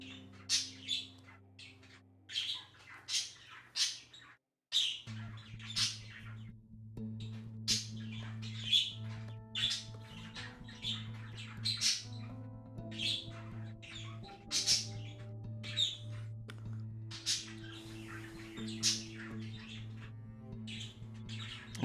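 Small birds chirp and squawk in a busy run of sharp repeated calls, close and clear over a steady low tonal backdrop, with a brief silent gap early on.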